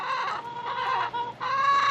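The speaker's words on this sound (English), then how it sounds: "So first thing we go out here is we got 10 chickens" Chickens on a homestead cluck and squawk up close, a few tonal, bursting calls in quick succession over about two seconds, fairly loud and alone.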